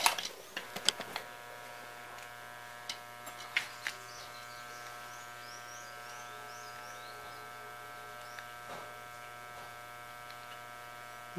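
A welding machine wired up as an autotransformer hums steadily once switched on, a constant electrical drone that follows a few sharp clicks and knocks at the start and then runs on alone.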